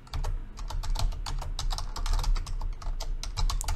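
Fingers type rapidly on a computer keyboard, a dense run of close, crisp key clicks in uneven bursts with short pauses between them, and no voices.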